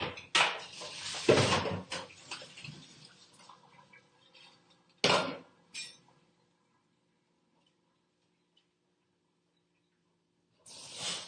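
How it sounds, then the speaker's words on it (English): A cooking pot is picked up and handled in a kitchen, with a cluster of close metallic knocks and clatters, a sharp clank, a few softer bumps, then quiet before another brief rattle. "So let me grab my pot over here."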